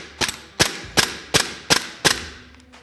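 A gas blowback airsoft pistol fitted with a tracer silencer fires six sharp, loud, close shots at an even pace, each with a short mechanical snap and no voices.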